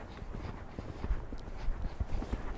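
Horse hooves walk at an unhurried pace, giving a soft, uneven series of clip-clop thuds that sit fairly close but quiet.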